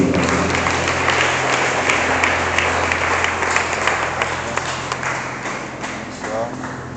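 A congregation applauds steadily, a dense wash of clapping under a low organ or keyboard drone, with voices mixed in and fading slightly toward the end.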